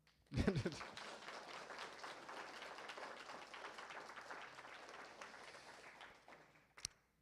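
An audience applauds after a poetry reading, the clapping starting with a sharp thump and fading gradually, fairly faint, before a short knock near the end.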